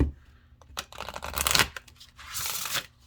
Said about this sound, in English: it's not too bad to shuffle for as large as these are